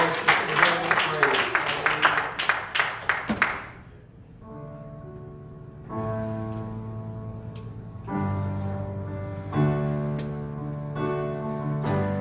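A church congregation at a Sunday evening service claps hands in a steady rhythm for a few seconds, then the clapping stops and sustained musical tones take over.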